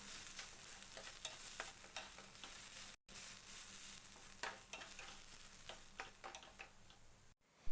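Potatoes mixed with salt into a masala in a pan, with steady scraping and stirring strokes and a soft sizzle underneath, close and fairly quiet, with a brief gap midway.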